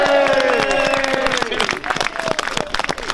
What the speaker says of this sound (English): we should probably give them a big cheer when they go